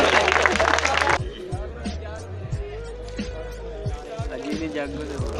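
Audience applause at a poetry mushaira, a loud burst of clapping that cuts off after about a second, followed by a speaking voice over quiet crowd murmur and scattered thumps.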